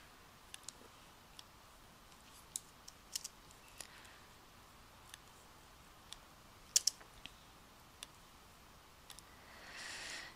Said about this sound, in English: I need to type them in myself.